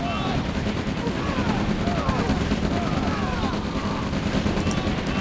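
Dense, continuous gunfire and explosive weapon fire from a Red Alert real-time strategy battle, with a V2 rocket launcher and infantry firing together in a steady, loud barrage while a voice talks over it.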